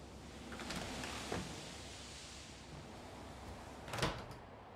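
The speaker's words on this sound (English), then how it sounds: "Doors close by themselves sometime as well." A door swinging shut on its own in a horror walking simulator video game, a couple of soft knocks with one sharper thud near the end over a steady low ambient hum.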